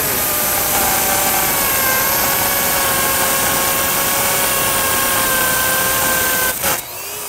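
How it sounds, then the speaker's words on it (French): A power drill bores steadily into a concrete paver while installing lights in paving, making a loud continuous whining grind with steady tones that cuts off abruptly near the end. "lorsque ça commence à entrer, là on enligne la mèche et on descend à 90 degrés"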